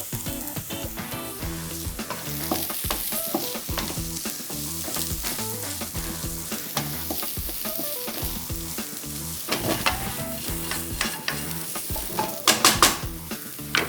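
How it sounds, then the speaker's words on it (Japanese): Rice and mushrooms for a green risotto stir-fry in a hot pan, with a loud, continuous close sizzle broken by scraping and the clatter of a utensil against the pan, growing busier toward the end. "お米がね熱くなるまで炒めていきましょうか"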